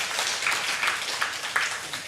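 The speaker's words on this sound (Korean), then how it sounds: "영광의 박수 한번 더 돌리겠습니다." Congregation applauding during a Sunday church service, a steady mass of clapping hands with a few sharper claps standing out, moderately loud and continuous.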